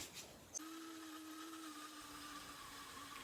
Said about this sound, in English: I'm using the parting tool to mark the end of my handle and start cutting it free from the lathe